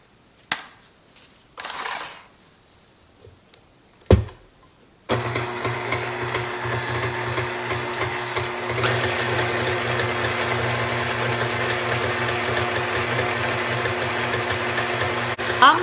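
An electric mixer beats non-cooking vanilla pudding powder into milk, starting after a few brief knocks and rustles and then whirring steadily and fairly loud to the end.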